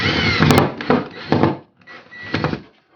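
Bolts on a microwave mounting bracket are tightened against a wall, giving several close, loud bursts of scraping and grinding with brief pauses between them.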